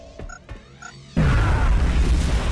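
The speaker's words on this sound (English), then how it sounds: "Here comes a grenade." A grenade bursts in XCOM: Enemy Unknown after a couple of quiet ticks, one sudden loud explosion followed by a rumbling, debris-filled roar that keeps going.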